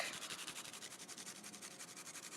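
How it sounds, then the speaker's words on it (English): Garlic cloves rubbed against a grater for meatballs, a steady rhythmic scraping of quick back-and-forth strokes, close and fairly quiet, with no talking. "Then I grate in a whole bunch of garlic"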